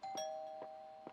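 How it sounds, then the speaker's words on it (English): A doorbell in PC Building Simulator gives a soft ding-dong chime, three short strikes over a steady sustained tone. It is faint and clean, with no voices. "Doorbell."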